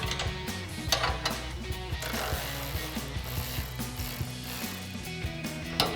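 A ratchet wrench with a 16 or 17 millimetre socket loosens the bumper wing bolts on a 2016–2023 Toyota Tacoma. It gives a steady run of close, rapid clicks with a few brief pauses.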